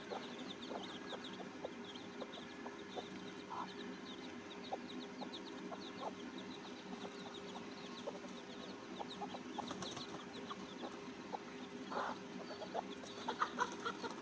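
Native free-range hens and a rooster cluck around a grove coop, with repeated soft clucks and calls scattered near and far over a steady outdoor background, no speech.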